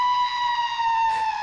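A girl's scream sound effect from RPG Maker MV, played back with its pitch lowered, rings as one sustained, steady, wavering tone with a brief rising flare near the end, clear and alone without any talk.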